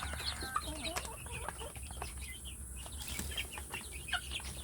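Indonesian village chickens in a rearing pen of nearly grown birds, clucking and chirping continuously with overlapping calls, occasional wing flaps and a faint background hum, fairly close.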